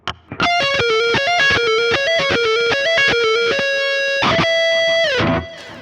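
A distorted electric guitar plays fast, flowing sweep-picked arpeggio runs up and down, ending on a sustained note that slides and fades.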